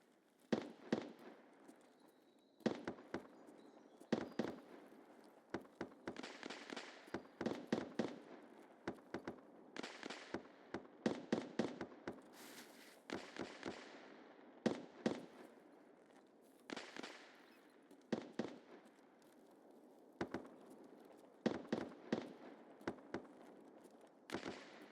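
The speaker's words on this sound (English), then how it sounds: "So as long as we hear gunshots going back to him" Bursts of gunfire from the boss Sturman echo across the woods in Escape from Tarkov, faint and distant sharp cracks in irregular volleys over about twenty-five seconds, with no voices.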